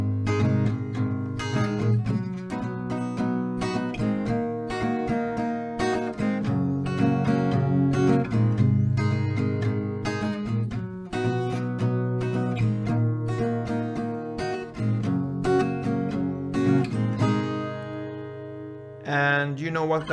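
Acoustic guitar strummed steadily in a repeating chord pattern, with loud, even rhythmic strokes, uninterrupted by speech.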